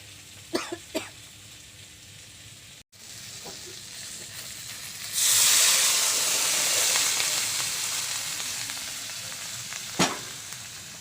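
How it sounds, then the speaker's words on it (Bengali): Curry sizzles gently in a pan on the stove, then water poured in sets off a loud, rushing hiss that slowly fades, with a couple of faint coughs and clinks around it. "এদিকে তরকারিতে ঝোল দিয়ে দিলাম"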